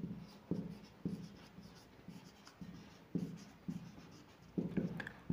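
Chalk or a marker taps and scratches out math on a classroom board in short, rhythmic bursts, close and fairly quiet, with no talk over it.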